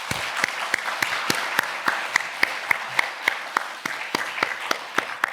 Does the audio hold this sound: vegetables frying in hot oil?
no